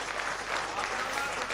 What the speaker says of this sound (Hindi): उसके सम्मान के लिए एक बार तालियां मारता